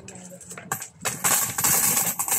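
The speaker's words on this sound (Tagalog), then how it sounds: "Lalagyan natin yung barya." Loose coins are dropped and scooped into plastic bags, a close, busy clatter and jingle mixed with crinkling plastic that thickens in the second half.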